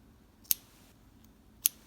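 Scissors make two sharp, quick snips while cutting off crochet yarn for a mug cozy, close up and spaced about a second apart in a quiet room.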